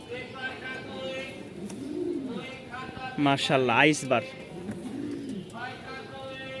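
Pigeons at a loft cooing repeatedly under a man's speech, the coos rising and falling in soft rolling phrases, with a louder burst of calls midway.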